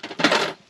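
GSI Outdoors camping cookware pots and lid for winter ice camping clatter together in one brief, close metallic rattle that fades out within a second.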